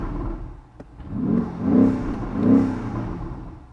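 A 2024 BMW XM Label Red engine revs up in a couple of rising swells, then drops from 3,000 to 500 RPM to a lower idle hum, fairly close.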